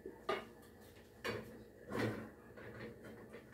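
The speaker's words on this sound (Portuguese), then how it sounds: "vou pôr minha outra panela aqui" A metal cooking pot for beans clanks and scrapes against a gas stovetop with a few close, distinct knocks.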